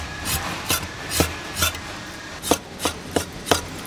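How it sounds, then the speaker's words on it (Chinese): Pork meat being chopped finely with a knife on a cutting board: about nine sharp, evenly spaced chops, close and clear with no talking. "我再把肉切碎"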